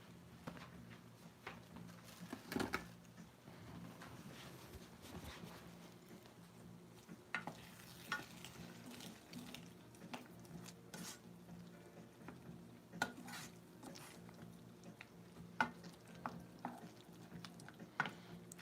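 Onions, eggs and a pepper fry in a pan on a woodstove with a faint, steady sizzle, broken by occasional soft scraping and tapping of a utensil.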